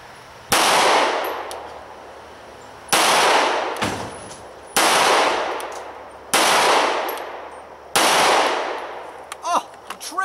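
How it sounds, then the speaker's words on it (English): Five loud, sharp shots from a Walther PPQ M2 9mm pistol fired at an outdoor range from five yards, spaced about two seconds apart, each with a long echoing tail and no talking in between. "I'm just going to do 5 shots, see how we do from an accuracy standpoint"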